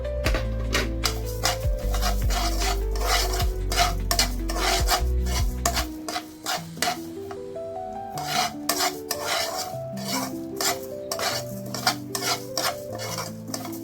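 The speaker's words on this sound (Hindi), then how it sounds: "अब इन सारी चीजों को थोड़ा भून लेंगे।" Whole spices dry roasting in a pan for achari chicken, stirred with a utensil in steady scraping and rattling strokes, close and fairly quiet with no talking.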